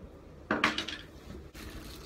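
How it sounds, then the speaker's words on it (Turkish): Hair dye cream and developer being stirred in a bowl in a student dorm, with quiet clinking and scraping of a utensil against the dish in short bursts. "Şu an karışımı yaptım ve karıştırma işlemini gerçekleştiriyorum"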